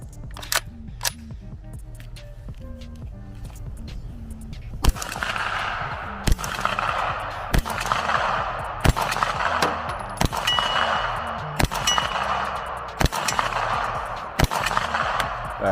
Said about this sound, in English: And this is our first shots.